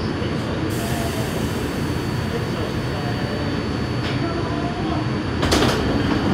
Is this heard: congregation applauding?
no